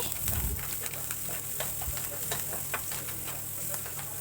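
Spices, curry leaves and turmeric sizzle and fry in a pan while being stirred, with a steady hiss and repeated light scraping strokes throughout, close and continuous with no talking.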